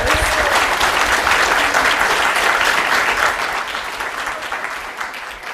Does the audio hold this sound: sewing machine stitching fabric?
no